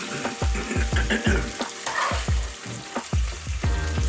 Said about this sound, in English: We don't want charcoal meat, but really searing those flavors